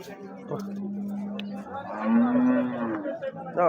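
A cow that gives twenty-five litres of milk lets out long, low moos, a drawn-out call and then a second, close by at a cattle market, with people talking faintly around it.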